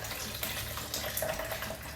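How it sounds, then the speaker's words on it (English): Half a beer poured into a turkey injection mix with chicken broth, a close, quiet, steady splashing trickle of liquid lasting about two seconds. "Then I got half a beer."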